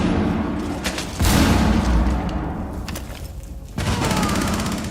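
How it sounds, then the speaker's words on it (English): Gunfire bursts and heavy crashing booms of walls breaking apart in the tactical shooter game Rainbow Six Siege, loud and dense, with sharp impacts around one and four seconds over a sustained rumbling din. "The sound of walls breaking, shuffling footsteps, and sporadic gunfire creates an atmosphere of dread and vulnerability"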